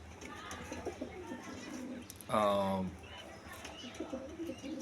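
A pair of pouter pigeons gives a short, loud throaty coo in the middle of steady background noise, with a few softer bird sounds before and after it.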